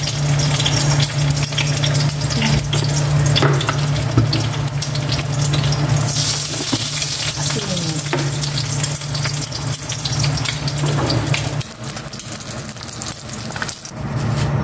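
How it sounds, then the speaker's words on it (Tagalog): Sliced hotdog sizzles in a frying pan, a dense continuous crackle and hiss close by, with a low steady hum under it and a few clatters near the end. "Prito naman ako ng hotdog."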